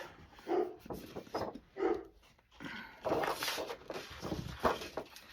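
A dog whining and whimpering to be let outside, heard as repeated short whines in bursts indoors, fairly close, with shuffling movement between.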